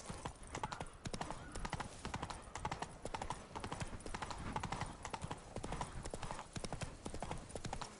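Horse hooves pound in a fast, steady clip-clop gallop in the video game Witcher 3, loud and continuous throughout with a brief whinny-like tone and faint voices mixed under the hoofbeats.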